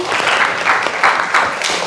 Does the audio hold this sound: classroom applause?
yes